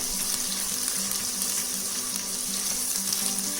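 Onion paste frying for Sindhi biryani in a pan over high flame gives a steady, loud, close hiss and sizzle that runs without a break, with no voices.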